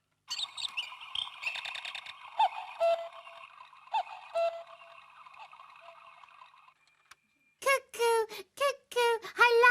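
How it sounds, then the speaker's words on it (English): A clock ticks and whirs with bright chirping tones for several seconds, then a short pause before a series of loud, sharp call-like bursts. "And some make funny cuckoo noises."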